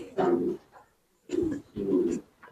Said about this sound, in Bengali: সব কালারের কবুতর এই খামারে আছে।